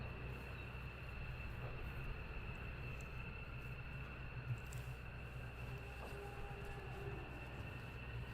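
Distant F-15 fighter jet engines running at RAF Lakenheath, a steady low roar and whine spread across the air, holding constant throughout with a faint higher tone above.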